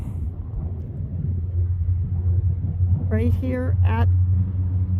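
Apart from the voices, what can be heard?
trucks passing on road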